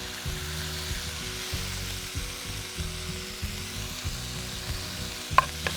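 Noodles stir-frying in a pan on a camp stove for beef stir-fry, steady close sizzling with repeated rhythmic scraping and tossing strokes, a sharp clink near the end, no talking.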